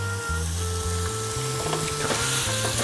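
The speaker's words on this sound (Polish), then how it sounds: "smażymy, aż całkowicie, całkowicie zmieni kolor" Meat sizzles steadily in olive oil in a hot pan, a constant close crackle and hiss with occasional stirring scrapes, over faint background music.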